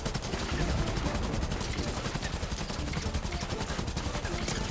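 Sustained rapid gunfire in Fortnite, a dense continuous stream of shots over several seconds with no pauses, loud and close.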